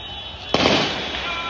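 Riot police fire tear gas rounds at protesters in Khilani Square: a single sharp, loud bang strikes partway through and rings out over a steady background of crowd noise.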